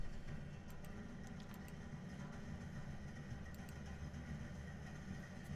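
A car engine idles in the People Playground video game with a steady, low, droning rumble, faint and continuous with no change in pace.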